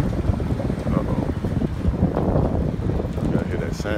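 A Dodge Hellcat with its muffler deleted rumbles loudly and steadily up close, a dense low growl that fills the clip, with wind buffeting the microphone.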